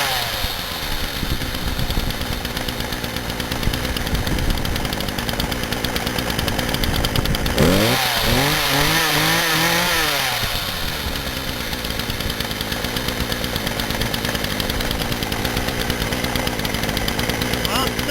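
A McCulloch chainsaw with a sticking clutch runs steadily with a buzzy two-stroke drone, swelling into a louder revving burst near the middle before settling back to a steady run.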